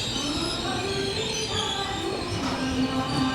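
A passenger express train rolls along the rails in a steady, continuous rumble, with thin high wheel squeals rising now and then over the noise.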